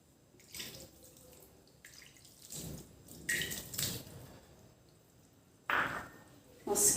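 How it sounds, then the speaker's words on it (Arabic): Orange blossom water is poured for a semolina almond cake (qalb el louz) in short, close splashing bursts separated by quiet pauses, the later pours louder and sharper. "نزيدو نحطو المزهر"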